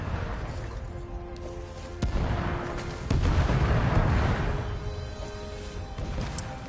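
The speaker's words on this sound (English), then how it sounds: "kind of dodging the fireballs, or at least cannon fire" Cannon fire in the video game Stories: The Path of Destinies, heavy booms over a constant rumbling bed, with a sharp blast near the two-second mark and a longer rolling surge a second later.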